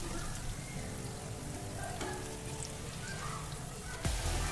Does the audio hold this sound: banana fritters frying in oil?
yes